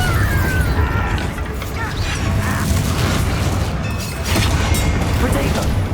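In Hogwarts Legacy, a Bombarda explosion spell lands as a deep boom inside a continuous loud combat din of rumbles and bursts, with voices heard in the mix.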